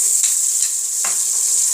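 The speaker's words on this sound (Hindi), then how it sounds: "और इसके अंदर मैं थोड़ा सा पालक का पानी शामिल करूंगी।" Spinach water goes into a pan of softening onions, setting off a loud, steady sizzle with a few brief bursts of stirring and splashing as the liquid hits the hot pan, and no voices.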